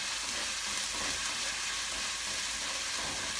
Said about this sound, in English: So now saute this until it turns almost brown.